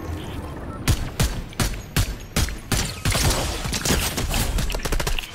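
Fortnite Zero Build gunfire rings out as a series of sharp, loud shots spaced irregularly, then a denser stretch of rapid firing, with voices talking over the action.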